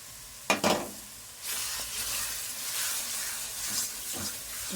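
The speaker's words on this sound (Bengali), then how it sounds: "এটা এবার দিয়ে কষাবো।" A spice paste of turmeric and masala hits a pan of sautéing onion and garlic with a sharp splash, then settles into a loud, continuous hissing sizzle broken by a few stirring scrapes, close and without talking.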